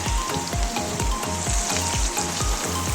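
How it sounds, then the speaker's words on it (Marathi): Cumin, mustard seeds, garlic and green chili fry in hot oil in a wok-style pan with a constant crackling sizzle, while a steady rhythmic low thumping pulses underneath. "त्यात जिरे मोहरी लसूण आणि हिरवी मिरची व्यवस्थित फ्राय करून घ्यायची आहे"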